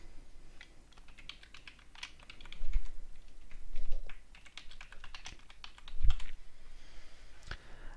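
Keys clacking on a computer keyboard as a password is entered while generating an SSH key, with a steady run of close, crisp taps and a few heavier strokes, no talking.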